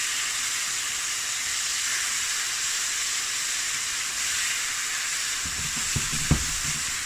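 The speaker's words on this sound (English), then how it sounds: "when you actually fry it in a wok like this" Kimchi frying in a wok, a steady close sizzle and hiss throughout, with a couple of short knocks near the end and no talking.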